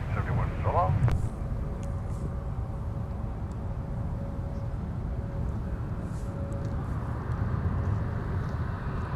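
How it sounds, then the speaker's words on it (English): A Southwest airliner taking off from MSP airport makes a steady low engine roar that holds throughout, with a voice talking over it at the start. "Southwest 1871 rocketing off for St. Louis Lambert International"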